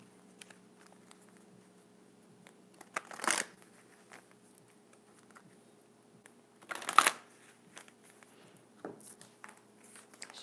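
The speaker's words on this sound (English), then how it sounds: "Shuffle these really quick." Two brief riffling bursts of a tarot deck being shuffled, quiet and close, separated by a few seconds of near silence with a faint hum.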